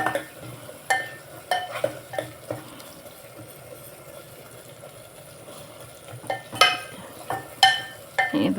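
Onion and tomato masala for village-style country chicken curry fries steadily in a pan. A spatula scrapes and knocks against the metal in irregular strokes over a constant low sizzle, with no talking.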